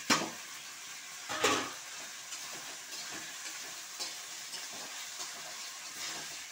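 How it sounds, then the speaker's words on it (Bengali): Spice masala with capsicum and tomato fries in a pan during fish curry preparation: a steady soft sizzle with a few louder stirring scrapes near the start, close and with no one speaking. "এই যে মশলাটা একটু কষে নিয়ে এখন আমি টমেটোটাও দিয়ে দিচ্ছি।"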